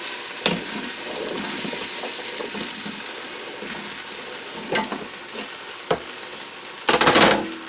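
Cubed sweet potatoes go into a hot Instant Pot for a pork hominy stew, frying with a steady close sizzle broken by a few soft thumps and a louder crackling burst near the end.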